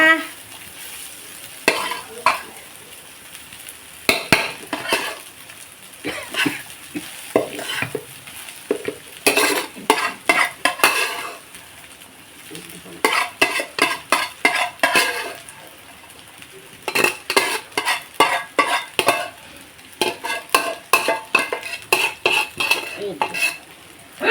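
Lemon rice stirred and mixed in a pan with a spoon, rapid bursts of scraping and clinking against metal separated by short pauses, with a faint sizzle underneath, close up and without talking.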